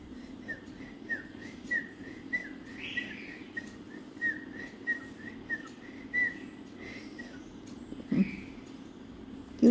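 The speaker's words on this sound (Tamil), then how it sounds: "இப்படி விசில் அடித்து காட்டினோம்னா அவங்க அப்பா விசில் அடிக்கிறது அவனுக்கு தெரியும்" A person softly whistles to a baby bird in a steady series of short, repeated chirping whistles over quiet room tone, with a faint bird call near the end.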